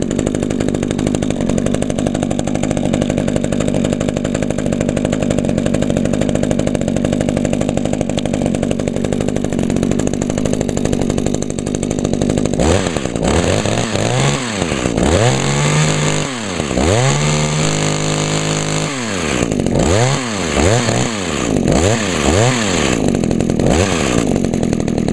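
Older HC150 hedge trimmer with a small two-stroke engine running steadily close by, a loud continuous buzz that turns into repeated revving surges in its second half, with no talking.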